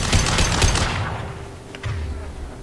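A rifle fires in a rapid burst in the Mass Effect 2 video game, the shots close and loud before trailing off, then a few fainter reports follow.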